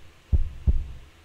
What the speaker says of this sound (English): The heartbeat at the end there.